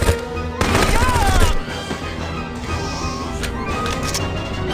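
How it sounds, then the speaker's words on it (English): A short burst of rapid gunfire and crashing impacts in No One Lives Forever 2 gameplay, followed by a lower, busier rumble with sweeping tones. "Yep, the sound of gunfire."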